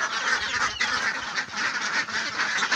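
A flock of domestic ducks being herded out to graze near a rice field, quacking and honking continuously and fairly close, a dense overlapping chorus with no speech.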